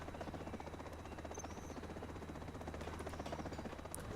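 A supply helicopter in the video game C&C Generals gives off a steady, rapid rotor thump and engine drone, continuous and fairly close, with faint game effects above it.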